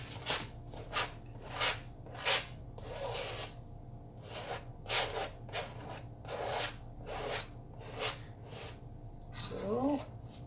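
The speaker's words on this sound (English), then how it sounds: "they liked the sound of the knife scraping on the canvas" A palette knife scrapes paint across a large canvas in a run of quiet, rasping strokes, each one a short gritty burst separated by brief pauses, close and soft.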